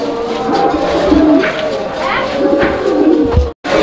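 Pigeons for sale, including red fancy birds and racers, coo repeatedly in a continuous low murmur throughout, with other bird calls mixed in and a short dropout near the end.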